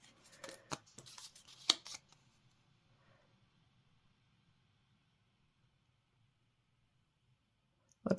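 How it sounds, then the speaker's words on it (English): Scissors snip across paper card stock for a paper craft project, a few sharp close cuts in the first two seconds, then near silence before one more brief rustle at the end. "I'm going to cut all the way across that, inside that circle."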